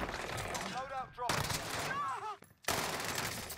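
C58 rifle gunfire in a video game rings out in sustained bursts of rapid shots, loud and close, separated by brief pauses, with voices talking in between.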